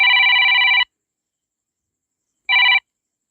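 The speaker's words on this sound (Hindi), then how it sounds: "फोन आ गया था, इसलिए कट गई थी वीडियो" A telephone bell ringing loudly and close, one long burst of trilling rings, a gap of silence, then a shorter second burst, with no voices.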